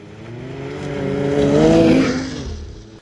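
A Ski-Doo Mach Z four-stroke snowmobile engine revs up, rising steadily to a loud peak and then easing back off, heard close and alone.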